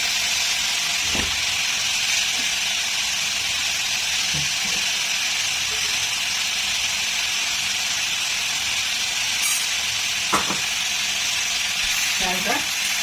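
A pan of raw-egg curry sizzles and hisses steadily, a constant frying crackle running throughout with a few faint knocks and brief bursts of activity.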